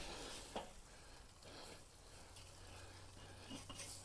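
Jalapeño cheddar burgers sizzling on a hot grill or pan right after being flipped, a soft steady crackle with a few brief scrapes and clicks.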